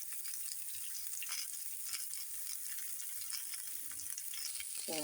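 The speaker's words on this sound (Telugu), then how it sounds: "ఇలా ఉల్లిపాయలు పచ్చిమిరపకాయలు కూడా పోపులో వేయాలండి." Chopped onions and green chillies sizzling in hot tempering oil for a banana curry, a continuous bright crackle with faint stirring, close and alone.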